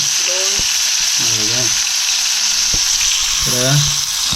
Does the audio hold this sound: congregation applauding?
no